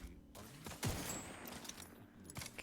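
A short burst of gunfire in The Outer Worlds 2, with rapid shots clustered around a sharper crack, fairly faint and set among game effects.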